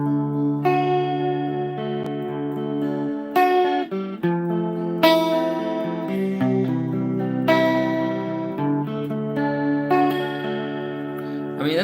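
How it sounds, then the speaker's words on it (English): A guitar played through the deep chorus effect of a Boss RC-600 looper pedal gives sustained chords a wobbling, swirling shimmer, each chord ringing out before the next one lands, with no talking. "What's a super deep chorus on this one?"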